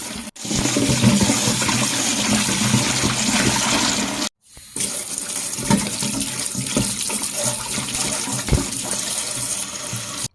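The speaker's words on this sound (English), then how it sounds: "now we're going to wash it for 3 times till the water is clear" Raw pork being rinsed under a running tap in a kitchen sink, a steady loud gush of water with a brief break near four seconds before the flow resumes, with no talking.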